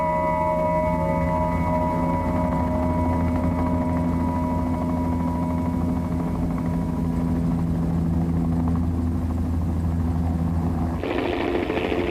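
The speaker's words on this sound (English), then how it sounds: "one team landed in Lou-Lan by helicopter" Steady whirring drone of a helicopter engine and rotor, continuous and moderately loud, with a brief brighter burst of noise near the end.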